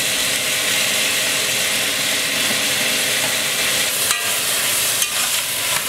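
Tomatoes fry in a pan for a vegetarian tofu and vegetable medley, giving a loud, continuous sizzle. Two brief clattering stir sounds come near the end.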